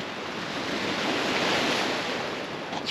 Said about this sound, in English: the waves pulling the rocks back in. It's pretty cool, the sound.